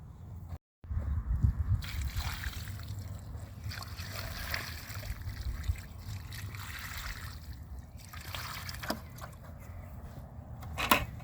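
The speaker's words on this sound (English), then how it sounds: "okay, we'll water one more time." Water pours onto the soil around a newly planted mulberry tree, a soft continuous splashing and trickling up close, with no talk heard.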